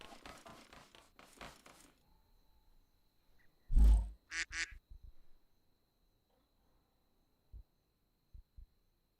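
A person imitates a duck during a Rust gaming session, giving a few sharp nasal quacks in quick succession after some talking, followed by a couple of faint thumps.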